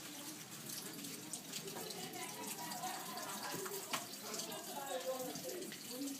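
A denture cup is rinsed under a running tap, a quiet steady water flow with faint splashing, and a voice murmurs softly in the background.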